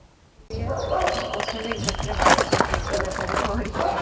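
A dog at an animal shelter barks and yips amid busy kennel noise, mixed under a speaking voice throughout.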